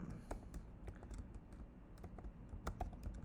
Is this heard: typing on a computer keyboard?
yes